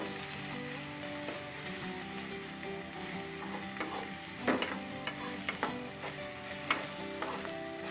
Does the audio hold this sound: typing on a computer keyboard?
no